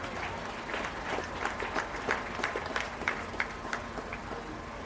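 A small crowd at a county fair beef show claps in a modest, fairly distant round of applause, with individual claps audible in an uneven patter that fades slightly toward the end.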